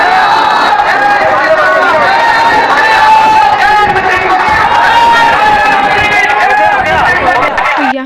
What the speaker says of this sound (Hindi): और फिर पहुँच गए हनुमान जी के मंदिर, जहाँ पर भी उनके भक्तों की खचाखच भीड़